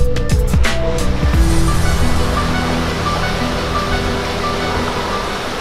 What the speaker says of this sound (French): là on a trouvé un petit ruisseau